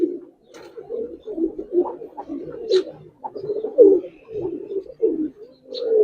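Giribaz and coloring pigeons coo repeatedly in a low, throaty rhythm, several birds overlapping close by with a few brief higher flutters and chirps between the coos.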